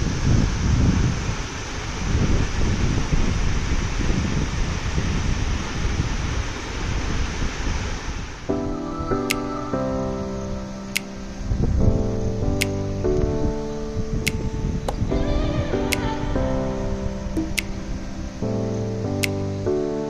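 The Kendai waterfall roars as a loud, dense, continuous rush for about eight seconds, then music with steady tones and sharp plucked accents takes over while the rushing water fades into the background.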